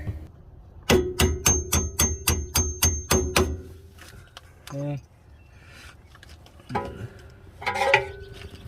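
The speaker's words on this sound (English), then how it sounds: "had to hammer it out" A rapid run of about ten sharp metallic hammer blows rings out in even rhythm, driving a long bolt out of an Acura TL suspension during a coilover install, followed by a few scattered clanks and scrapes.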